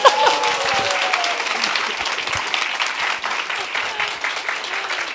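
An audience at a live public broadcast of a Korean political podcast in a Seoul city building applauds, sustained dense clapping heard up close and filling the whole stretch at a steady level.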